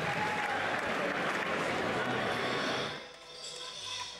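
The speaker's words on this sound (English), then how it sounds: "please give both these men a huge round of applause that they both deserve" A Muay Thai event crowd claps and cheers loudly for two fighters after a bout in the ring. The dense applause holds steady, then fades near the end as an announcer's voice begins.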